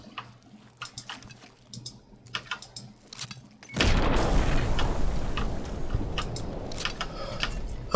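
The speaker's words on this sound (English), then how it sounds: "Frag mines, my friend. Frag mines." A frag mine detonating in Fallout: Tale of Two Wastelands, a sudden loud blast after scattered small clicks and taps, followed by a long rumbling, crackling tail of debris.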